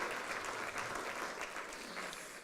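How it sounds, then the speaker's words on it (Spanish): A church congregation applauding, a dense steady patter of many hands clapping together, sustained and fairly close, tapering slightly toward the end. "Dale un aplauso al Señor"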